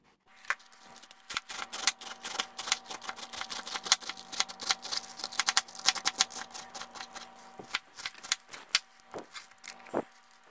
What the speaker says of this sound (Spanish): empezamos a rebanar